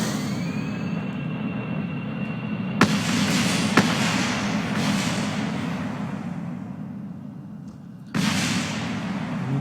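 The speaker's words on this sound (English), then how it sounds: "This time I'm going to give it afterburners on takeoff to replicate what I did the first time." A jet engine in Kerbal Space Program roars at takeoff with afterburners, a loud steady rumbling broadband drone with sharp bangs and a sudden surge near the end.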